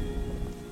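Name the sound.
rain falling in a cartoon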